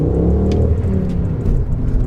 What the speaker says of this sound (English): Listen to that engine. Sounds unreal.